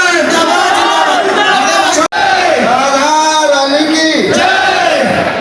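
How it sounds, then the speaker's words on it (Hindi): Loud crowd at a welcome reception for a cabinet minister, a sustained roar of cheering and shouting voices, dense and close throughout with a brief cut near the middle. "जोरदार तालियों से उनके आभार व्यक्त करें"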